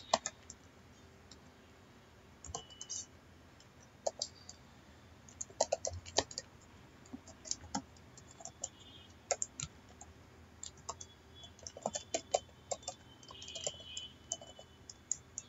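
Computer keyboard being typed on to enter a hello world program in an Ubuntu shell, with faint, irregular clicky keystrokes in short bursts and pauses against a quiet background.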